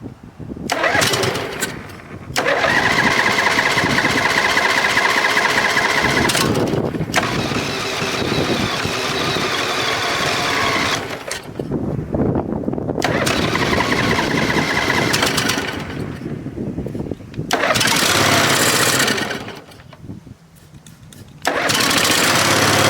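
An old Ferris 61-inch riding mower cranks over and catches, its engine running loud and close in several long stretches, broken by brief pauses and restarts.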